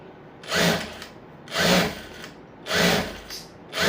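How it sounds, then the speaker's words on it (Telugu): An Usha Jack S2 sewing machine running in short bursts, four evenly spaced whirring stitching runs with brief quiet pauses between them, close and clear with no talking. "మిషన్ అయితే ఇప్పుడు ఇలా ఆన్ అవుతుంది ఆన్ అయ్యి స్టిచ్ అయితే జరుగుతుంది"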